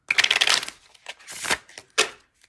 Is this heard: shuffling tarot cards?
yes